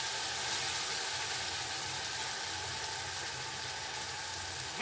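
A paste of pointed gourd, onion, ginger, garlic and green chili fries in oil, giving a steady, dense sizzle that holds even and close throughout with no voices over it.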